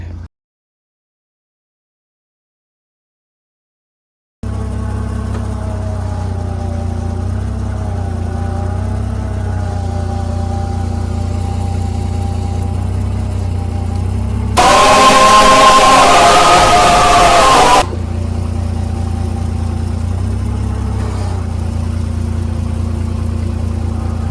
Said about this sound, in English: come with the forklift, lift it up and down